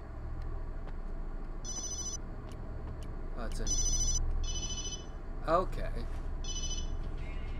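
A cell phone ringing in the video game Obscure: repeated short electronic ring bursts over a low in-game background hum, while a person speaks briefly.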